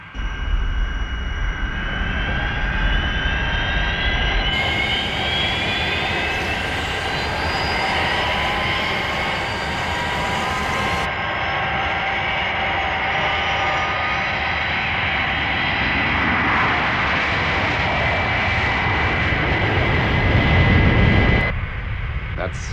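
The Fireflash aircraft from the Thunderbirds puppet series roars through its takeoff, a loud sustained jet whine that shifts in pitch midway, with voices and dramatic score mixed in.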